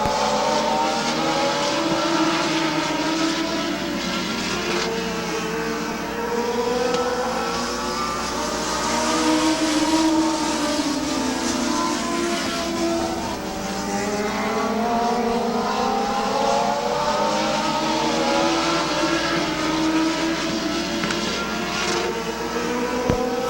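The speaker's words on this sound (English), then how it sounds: "3 to go for Huff and Yoder, a good battle up front." Stock cars racing at Midvale Speedway, a continuous loud roar of several engines droning and shifting in pitch as the pack circles the track, steady throughout with no talk.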